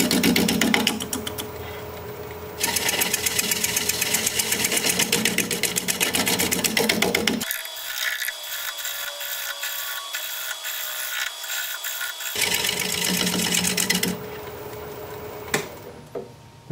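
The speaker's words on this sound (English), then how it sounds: "I'm going to try shear scraping" A shear scraper cuts into spinning natural holly crotch wood on a lathe, a loud close rough scraping with a steady drone that stops for several seconds midway and then resumes, no talking.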